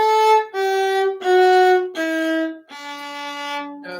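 A viola plays a slow sequence of sustained bowed notes in the 2-3 finger pattern, each tone held about half a second to a second, stepping steadily lower, clear and close with no talking.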